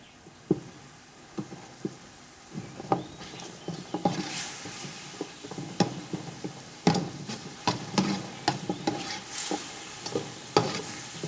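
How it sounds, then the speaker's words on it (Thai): A spoon scrapes and clinks around a pot of melting sugar in irregular strokes, with a soft sizzle underneath; close and fairly quiet, no voices. "แล้วเราก็คนคนคน น้ำตาลก็ละลาย"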